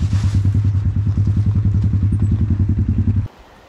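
A motorcycle engine thumps in a fast, steady rhythm on a snowy mountain road, loud and close, then cuts off abruptly near the end, leaving quiet rumble.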